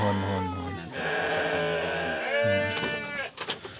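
Sheep bleat repeatedly at a livestock farm, with wavering, nasal cries that overlap one another at close range and fill most of the stretch, while a faint voice murmurs underneath.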